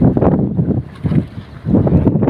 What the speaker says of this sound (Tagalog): medyo malakas rin ang hangin